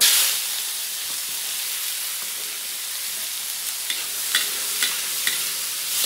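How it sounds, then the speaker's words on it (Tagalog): Onion, tomato and garlic hitting hot oil in a pan, a loud burst of sizzle that settles into a steady hiss, with a few light stirring clicks near the end and no talk. "Gisa na natin sibuyas, kamatis, bawang."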